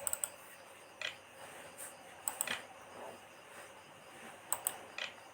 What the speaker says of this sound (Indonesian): tekan tombol berlogo Windows pada keyboard di sini untuk masuk ke menu Start secara singkat